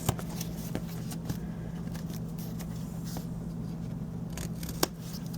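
Scissors trim the paper flap on the spine of a mini scrapbook photo album, producing a series of soft snipping cuts over a low steady background hum, close and quiet, with one sharper snip near the end.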